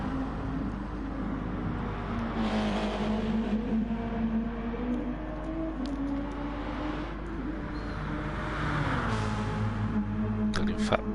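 Race cars in a sim racing event at Sainte Croix drone steadily past in a continuous engine roar, with pitch swells as cars accelerate and pass, under faint commentary talk.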